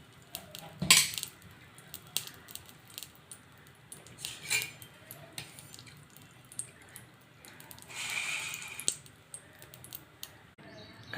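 Ghee goes into a metal kadhai amid scattered clinks and clatters of utensils, a sharp knock near the start and a few more later, faint and close with quiet gaps between.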